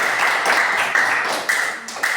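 A classroom of students applauds a student group after a math presentation. Steady, dense clapping from many hands fills the room at even loudness throughout, with a few sharper claps standing out near the end.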